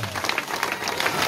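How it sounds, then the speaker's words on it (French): Brief burst of outdoor crowd applause at the dedication of a stadium named for rugby player Roland Bertranne in Ibos, quick scattered claps blending into a steady patter, fairly close and unaccompanied by talk. "On applaudit Stade Roland Bertrand"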